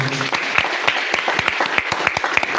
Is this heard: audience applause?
yes